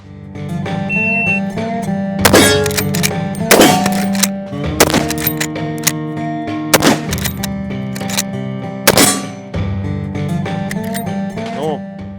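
Rossi R95 lever-action rifle fired rapidly at steel targets: five sharp, loud shots spaced a second or two apart, each followed by a ringing metallic clang, over a steady background hum.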